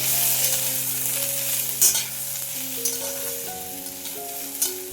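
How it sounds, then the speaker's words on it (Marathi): Garlic cloves and ginger frying in a pan with tomato, giving a steady close sizzle with occasional stirring scrapes and clinks, no voices. "थोड्याशा लसणीच्या पाकळ्या घातलेल्या आहे एक पाच ते सहा थोडंसं आलं घालायचं आणि आता हे छान आपण भाजून घेऊया"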